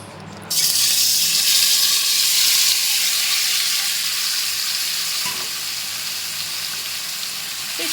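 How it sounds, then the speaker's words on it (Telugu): Marinated chicken, half a kilo, hitting hot oil in a pan for chicken chukka masala fry, with a loud sudden sizzle that settles into a steady, slowly fading close frying hiss. "ఇప్పుడు మ్యారినేట్ చేసుకున్న చికెన్ యాడ్ చేసుకోండి"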